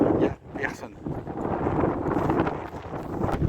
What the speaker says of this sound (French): Donc là, il y a beaucoup de vent.